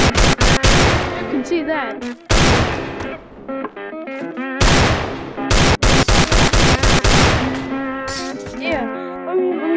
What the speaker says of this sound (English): this is Deagle! See how this gun actually works?